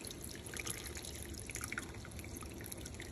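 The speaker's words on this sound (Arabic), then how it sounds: "نحط بقى ميه عشان تستوي، مش ميه كتيره طبعا" Water is poured into a cooking pot of spiced duck stew prepared for couscous, a faint continuous trickle and splash heard close by with no voices over it.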